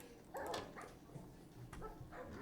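Several dogs barking in a dog room inside a Minecraft survival game world, a few short yips and barks at irregular intervals, quiet and somewhat distant over faint background noise.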